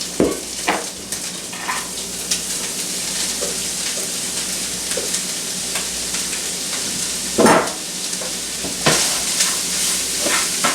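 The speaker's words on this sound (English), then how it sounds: "After a minute, we're going to add the coleslaw mixture and cook until tender for about 5 to 6 minutes." Coleslaw mix for egg rolls fries and sizzles in a pan, with steady crackling and several louder scraping stirs spread across the clip. No voices are heard.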